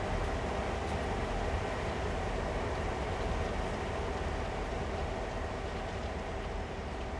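Rail yard ambience from the Train Sim World game on the Northeast Corridor near New York: a steady, fairly faint rumble of trains and railcars continues without a break and without voices.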